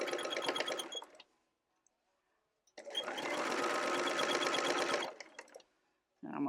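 A sewing machine stitches quilt binding in two loud, close bursts of rapid whirring, with a quiet pause between them and a brief restart at the end.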